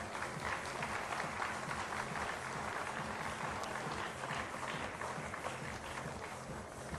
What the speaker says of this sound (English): I want each one of you to give a huge round of applause.